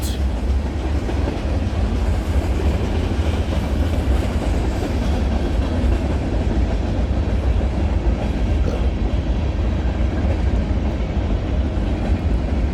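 A long freight train with tank cars rolls past continuously, a steady loud rumble with rhythmic clanking of rail cars, unbroken throughout.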